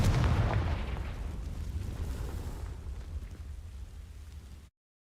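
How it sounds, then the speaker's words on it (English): In Hogwarts Legacy, the Confringo fire spell ignites dry vines with a deep rumbling blast that rolls out loud at once, then fades gradually into a smouldering roar before cutting off abruptly. "These dry vines are one spark away from becoming kindling. Confringo!"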